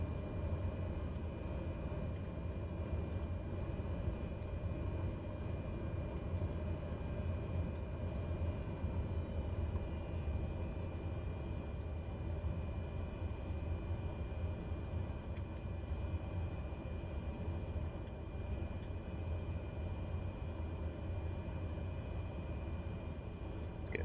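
An airplane engine in the video game MSFS 2020 drones through a takeoff climb, a steady, fairly quiet rumble and hiss that continues evenly throughout without any voices.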